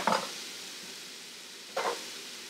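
Bison burgers cooking in a pan, with a faint low sizzle underneath and two short scraping clatters, one at the start and one near the end, as the patties are flipped or handled.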